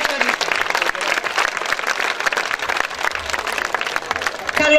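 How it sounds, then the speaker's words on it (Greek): Loud, dense audience applause welcomes a Greek folk dance troupe that performs Tsamiko and Kalamatianos, continuous clapping for several seconds with voices mixed in. "Χειροκροτήστε τους και καλωσορίστε."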